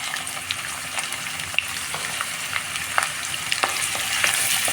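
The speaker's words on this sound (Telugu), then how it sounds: "ఆయిల్ వేసుకున్నాం. ఉల్లిపాయలు కట్ చేసుకున్నాం, ఉల్లిపాయలు వేసుకున్నాం." Onions frying in hot oil in a pan for cabbage masala curry, a steady close sizzle with occasional soft stirring clicks and pops, no voices.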